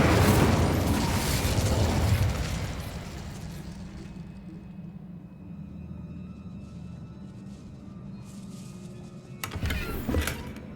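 Incendio fire spell cast in Hogwarts Legacy: a loud, roaring blast of fiery rumble fills the first two seconds, fades to a low lingering drone, then a second sharp burst flares near the end.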